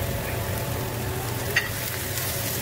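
Celery and carrots stir-fry in a pan for chow mein, a steady even sizzle throughout with one small clink of a utensil midway.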